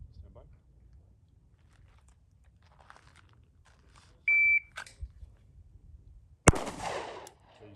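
A single sharp pistol shot from a Glock 21 Gen5 or 43x at a shooting range, loud and close, preceded by a timer beep and quiet surroundings.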